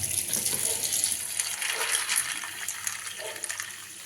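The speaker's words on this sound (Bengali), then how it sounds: "চলো এগুলো ধুয়ে ভালো করে ভিজর দিই" Water runs and splashes steadily as food is rinsed by hand in a kitchen, a continuous wet gush with small sloshing variations throughout, fairly close and moderately loud, with no speech.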